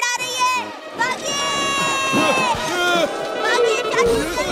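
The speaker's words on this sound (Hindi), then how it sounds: "पीछे देखिए भीड़ आ रही है।" A cartoon chase with an angry mob running after its target, a dense burst of shouting and excited crowd noise mixed with musical tones, loud and continuous throughout.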